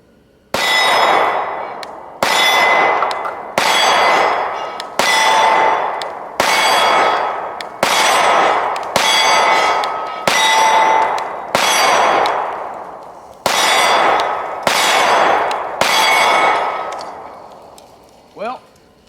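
Canik METE MC9 subcompact pistol fired at an outdoor range, about eleven loud shots spaced roughly a second or more apart, each ringing off steel targets with a bright metallic clang and a fading ring.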